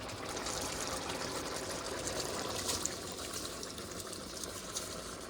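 Water poured from about four small cups into rice in a cooking pot, making a steady, continuous splashing trickle at close range with no talking.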